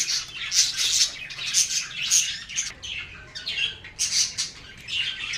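Lovebirds in an aviary squawk and chirp in rapid, overlapping bursts, a busy, shrill flock chatter that continues without pause and carries no voices.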